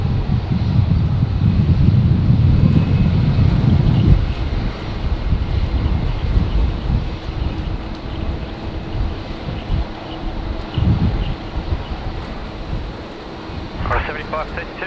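An airliner takes off at Brisbane Airport on a windy day, its deep engine roar strongest at first then thinning out, with wind rumble buffeting the microphone throughout.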